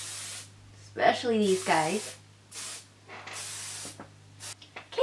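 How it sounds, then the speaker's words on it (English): Kenra Dry Thickening Spray being sprayed onto hair in several short aerosol hisses of varying length, close and clear, with someone speaking briefly between bursts. "And I'm gonna spray it all over."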